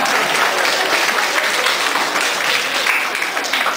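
Dense, steady applause fills a room at an art exhibition opening, a crowd clapping continuously and fairly loud throughout with no pauses.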